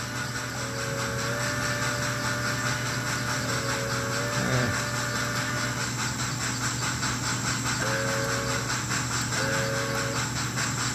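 A 1950s American Flyer model steam locomotive run from a Rail Pro LM-3S sounds several short whistle blasts in a pattern, over a constant steam hiss and engine rumble.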